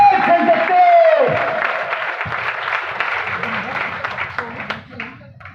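Loud applause from an audience at a Janshakti Group business seminar, dense steady clapping with some cheering and whoops that gradually thins toward the end.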